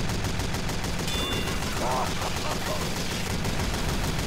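Gunfire in the game Team Fortress 2 rattles in dense, rapid bursts over a constant loud battle din, with faint voices briefly underneath.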